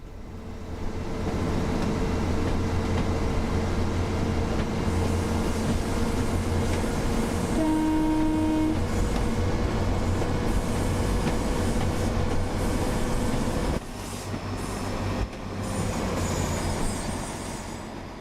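A passenger train runs on the Boston–Providence route in the railway game Train Sim World 5, giving a steady, loud rumble throughout, with a brief horn-like tone partway through and a sudden dip near the end.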